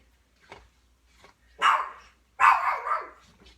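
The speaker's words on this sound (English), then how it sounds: "now you can hear Lily barking" A dog barks twice, loud and close, after a few softer yips, with short pauses between.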